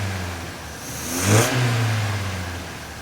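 A 1965 Volvo 1800 S engine on Mikuni twin carburetors with velocity stacks gives a single quick rev that rises, peaks and settles back toward idle, close and fairly loud with no talking.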